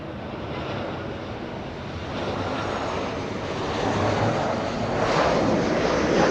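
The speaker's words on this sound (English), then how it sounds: "Southwest 2597 from San Jose, California. 50 minutes of flight time for this one. A 737." A Southwest Boeing 737 jet airliner at LAX makes a broad rushing roar that builds gradually in loudness, with wind buffeting on the microphone.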